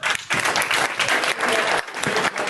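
An audience at a cyber crisis simulation session bursts into strong, sustained clapping, loud and close with uneven surges throughout.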